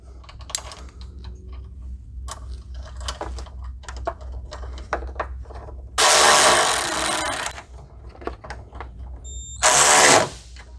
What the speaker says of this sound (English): Use the supplied hardware and mount the bracket to this hole in the apron.